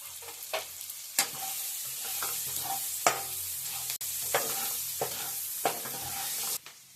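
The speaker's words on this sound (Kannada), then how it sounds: "ಇದು ಇವಾಗ ಫ್ರೈ ಮಾಡ್ಕೊಳ್ಳೋಣ." Onions and green peas frying in a pan for pasta, a quiet constant sizzle punctuated by loud spoon clacks and scrapes against the pan at irregular intervals, no voices.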